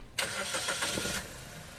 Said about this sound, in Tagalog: pwede mo na ngayon i-start itong makina